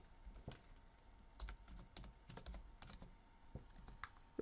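Quiet typing on a computer keyboard, a steady run of light, irregular key clicks over several seconds with brief pauses, close and alone.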